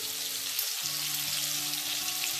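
Fresh sardines cook in a dry pan with no oil, giving a steady, dense sizzle that stays loud and even throughout, with faint low hums underneath.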